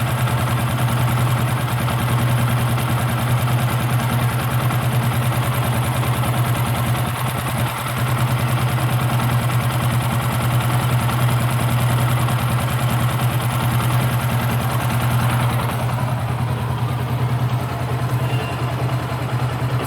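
Carburetor engine idling smoothly after fuel mixture tuning, a loud continuous low hum with an even, unwavering rhythm and no talking.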